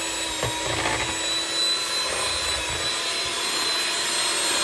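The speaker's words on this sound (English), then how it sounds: "And then we're going to blend her up." A kitchen blender whirs steadily and loudly for a few seconds as it blends green pancake batter, giving a continuous rough grinding drone with no talking.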